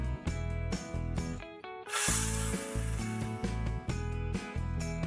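Hot tempering is poured into sambar curry and hisses in a sharp, bright sizzle that bursts up suddenly and then fades, heard under steady, tuneful background music.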